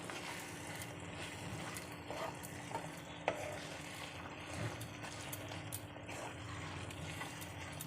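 Mutton kosha being stirred in a pan with ground black pepper, a steady low scraping and shuffling with faint sizzle underneath and one sharp clink of the spoon midway, close and continuous with no talking.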